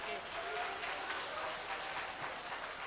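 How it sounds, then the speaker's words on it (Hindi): Audience at a Hindi kavi sammelan poetry gathering applauds with a steady wash of clapping at moderate distance, with crowd murmur mixed in. "दोस्तों एक बार और ताली बजा करके"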